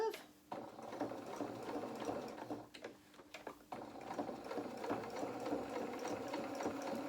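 A sewing machine stitching around the curve of a baby bib, a steady close mechanical whir with short stops and restarts.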